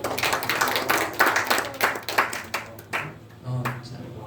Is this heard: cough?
no